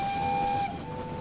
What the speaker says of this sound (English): it kind of seems like when I'm close to another engine, like I control their whistle as well